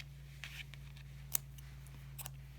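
Scissors snipping crochet yarn after finishing a mini beanie ornament, a few quiet close clicks and one sharper cut over a faint steady hum, with no talking.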